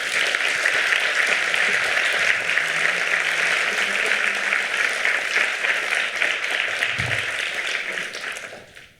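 Sustained applause from an audience after a student presentation of labour-law reports, dense and steady for about nine seconds before tapering off at the end.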